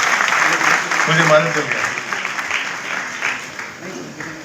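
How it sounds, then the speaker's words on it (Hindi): An audience applauds to welcome a Member of Parliament at a film and culture gathering in Rewa, the clapping spread throughout while someone speaks over it. "हमारे बीच में सांसद जी आए, उनका भी तालियां बजाकर स्वागत कर"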